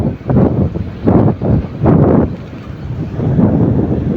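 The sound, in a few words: wind blowing in a park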